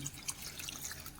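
Water pours into a pressure cooker holding dal with drumstick leaves, tomato, onion, garlic and turmeric, a faint, brief trickle with soft drips and no talking.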